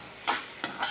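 Handful of coriander being dry-roasted in a pan, with two quick scraping stirs of a spatula over a faint sizzle, close and brief.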